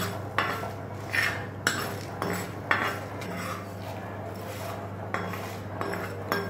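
A metal spoon scrapes and clinks against a pan as spices are dry-roasted without oil for a mutton kothu kari kulambu, giving sharp, close taps every second or so over a low steady hum.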